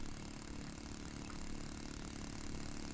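Within the Real Flight 9.5 simulator game, a virtual RC plane engine hums at a steady, faint, buzzy drone with no clear change in pitch throughout.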